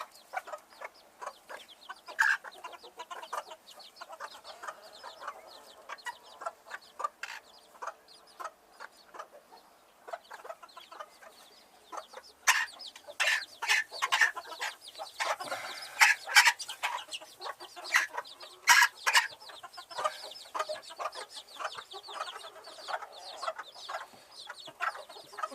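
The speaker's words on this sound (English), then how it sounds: "There's the chicks in the other box." Young chicks kept in a box on an allotment, chirping and cheeping in rapid, busy bursts that grow louder and denser partway through, close by with no talk.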